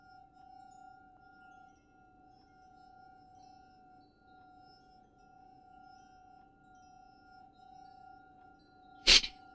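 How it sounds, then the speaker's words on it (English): A single sharp glass clink rings out near the end of a quiet stretch of low hum and steady tonal drone in the video game The Suicide of Rachel Foster, brief and fairly loud against the still background. "Like a clinking."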